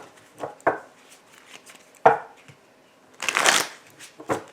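Kabbalah cards are shuffled by hand in several quick riffling bursts and soft slaps, close and crisp, with pauses between shuffles.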